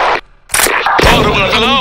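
A thrown grenade explodes in a video game, a loud broadband blast followed by a brief dip and a second rumbling burst, with a voice talking over the end.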